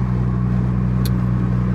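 Cabin drone inside a moving MK6 Volkswagen GLI with a big turbo, a steady low engine hum and road rumble, loud and even, with a brief faint high click near the middle.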